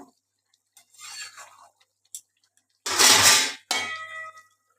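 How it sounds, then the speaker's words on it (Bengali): A lid goes onto a pot of simmering rohu fish curry: a single loud metallic clang with a short ringing tail, preceded by faint kitchen clinks and followed by a softer second knock. "দেখো আরেকটুখানি ঢাকা দিয়ে দিলাম।"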